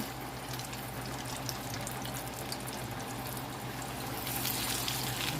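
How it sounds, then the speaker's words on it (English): Loud, steady sizzling and crackling of chicken deep frying in hot grease in a deep wok skillet. It runs continuously and swells slightly near the end. "slowly add our chicken into the hot grease, and we are deep frying that in a deep wok skillet"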